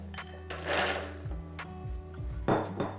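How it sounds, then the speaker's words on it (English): Raw cashews dumped into a Vitamix blender jar, a few hard clattering knocks and rattles of nuts hitting the container, close up, with no talk. "we're just going to dump these raw cashews right into our Vitamix"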